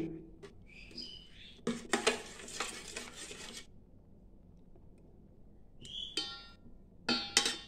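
A spoon clinks and scrapes against a metal pot as curry is stirred after garam masala is added, in short bursts with quiet gaps, while birds chirp faintly nearby.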